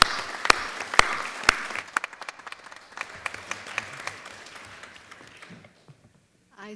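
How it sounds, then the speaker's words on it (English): Applause from an audience at an awards ceremony honoring community service, with loud sharp claps at the start thinning into scattered clapping that fades out near the end. "Give her a round of applause, please."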